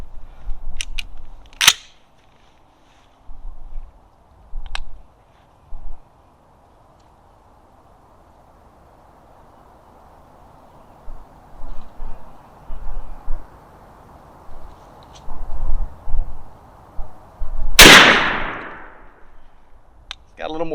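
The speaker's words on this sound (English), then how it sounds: "first shots with the APEX number 9 3-inch TSS" A 12 or 20 gauge shotgun firing an APEX number 9 3-inch TSS shell outdoors, one sharp loud blast near the end after a few small clicks and handling noises, with people talking quietly between.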